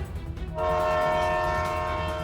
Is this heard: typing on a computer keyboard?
no